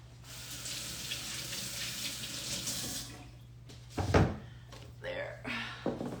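Water from a kitchen tap runs steadily into a sink while green and white radish and carrots are washed, then stops, followed by a few clunks and splashes of handling, with some talk around it.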